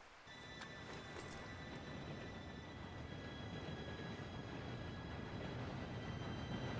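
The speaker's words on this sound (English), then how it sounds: "Train should be here any minute now" A steam-era train approaches in the video game Red Dead Redemption 2, a low, quiet rumble of rolling wheels that swells steadily as it draws nearer.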